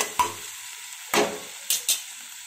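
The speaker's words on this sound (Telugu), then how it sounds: "కొంచెం అంటే కొంచెం అల్లం వెల్లుల్లి పేస్ట్ వేసి ఒకసారి కలుపుదాం" Ginger garlic paste frying in a pan for onion tomato Maggi, stirred in four short scraping strokes over a faint sizzle.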